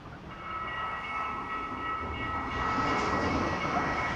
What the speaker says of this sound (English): Oh, there is a train coming right now.